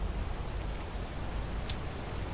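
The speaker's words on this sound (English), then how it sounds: "Ugh, it is very rainy" Steady rain hisses down in a fantasy video game, a dense, even wash of falling water with no breaks and no voices.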